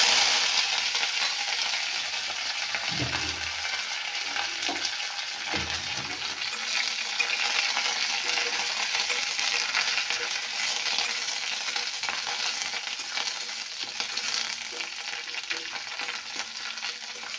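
Curry leaves crackle and sizzle in hot mustard oil in a wok, a steady frying hiss with a couple of soft low knocks from a utensil early on, fairly quiet and close.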